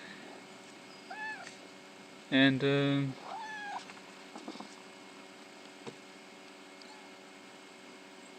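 Cats meow indoors near a computer, one loud close meow standing out among a few fainter chirps and small sounds over a low hum, with a voice briefly speaking.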